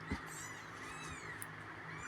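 Faint mewing from abandoned kittens being taken in and fed, a soft high cry near the start against a low background hum, with no talk.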